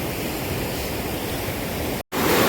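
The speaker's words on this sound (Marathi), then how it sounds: "पाण्याचा आवाज बघा कसा येतो एकदम" Loud, steady rush of river water in Konkan at a line-fishing spot, a dense continuous roar close by, briefly cut off near the end before resuming.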